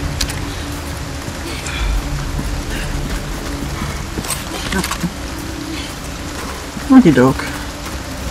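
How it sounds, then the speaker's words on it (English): Steady rain hisses through a rainy outdoor scene in the video game Resident Evil 4 Remake, a constant wash beneath a man's brief speech. "It's very rainy, isn't it?"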